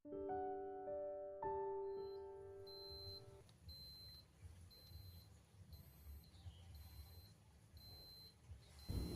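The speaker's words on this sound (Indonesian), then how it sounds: "terdengarnya bunyi alarm seperti tadi dari meteran atau KWH" Prepaid electricity kWh meter sounding its low-token alarm, a string of short, sharp, high beeps repeating in a steady rhythm after a few opening tones, close and clear over quiet room background.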